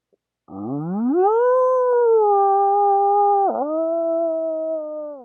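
A human voice imitates a coyote howl: one long, rising, sustained wail that wavers briefly near the end, loud and close, with no other sounds.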